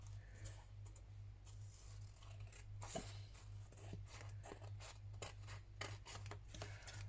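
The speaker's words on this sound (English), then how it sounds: "I'm going to trim round my base card" Scissors trim around a card base for a papercraft project, giving a quiet, close run of snips and papery rubbing over a steady low electrical hum, with no talking.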